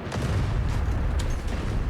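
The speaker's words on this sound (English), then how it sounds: "here comes the artillery" Artillery fire in the video game Outpost Infinity Siege, a dense, steady rumble of distant booms with a couple of sharper bursts, continuous throughout.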